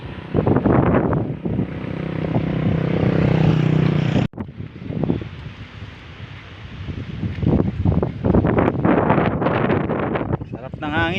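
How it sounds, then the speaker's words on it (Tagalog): Wind buffets the microphone while riding a bike along a canal, with a loud rushing roar and gusts, and someone talks over it at times. "Sarap ng hangin mga ka-idol."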